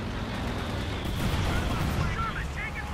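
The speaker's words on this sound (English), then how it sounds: "Got another airstrike in though" Airstrike explosions in the World War II strategy game Company of Heroes 2 form a dense, loud, continuous rumble of blasts and battlefield gunfire across a 2v2 match, with no distinct pauses.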